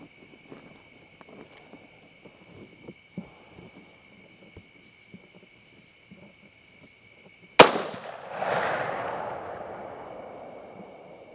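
A single loud 6.5 Creedmoor rifle shot fired at a hog outdoors, a sharp crack followed by a long rolling echo, after several seconds of quiet ambient insects and rustling.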